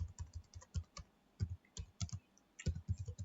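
Quiet, close typing on a computer keyboard: irregular runs of crisp key clicks with brief pauses between bursts, no voices.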